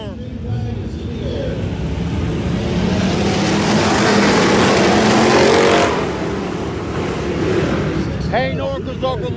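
IMCA hobby stock race cars roar around the dirt oval at Salina Speedway, the engine noise swelling loudly as the pack passes and then easing, with an announcer commentating over it.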